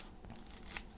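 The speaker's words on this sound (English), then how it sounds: "This is like a scissor, edge cutting scissors." Edge-cutting craft scissors snip through paper with a short crisp cut and a sharp click near the end, close and quiet in an otherwise still room.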